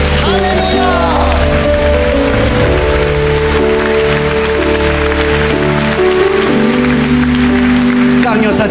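A church congregation applauds loudly during a service, the clapping blended with sustained keyboard or organ chords and a voice speaking or singing over it throughout.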